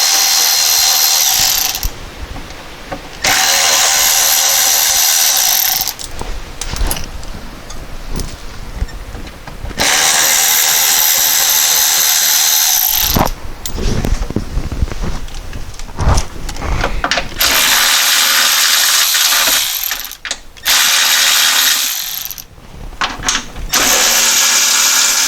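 Hex and Torx bolts being removed from the belly pan of a VW Golf Alltrack with a ratchet or power driver: loud bursts of whirring and rattling clicks alternate with short pauses, close by and with no talk.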